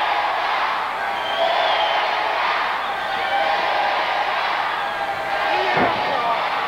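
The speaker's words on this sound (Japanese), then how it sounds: "再びインターナショナルヘビー級チャンピオンジャンボ鶴田の入場" A large arena crowd at a 1984 All Japan professional wrestling show roars and cheers steadily as International Heavyweight Champion Jumbo Tsuruta makes his entrance, with a loud thud near the end.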